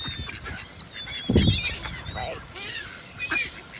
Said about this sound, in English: Okay, I've got girl ducks and male ducks.